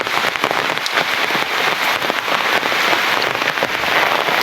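Heavy morning rain pours down steadily over a road, a dense, continuous hiss of drops drumming on surfaces with no voices.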